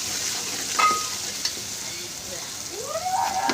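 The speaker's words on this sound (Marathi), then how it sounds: "आणि अद्रक लसणाची पेस्ट चांगलं तळून घेऊ" Ginger garlic paste frying in a pan for chicken curry, a steady hiss of sizzling with a few spatula scrapes and a faint metallic squeak, close up and without speech.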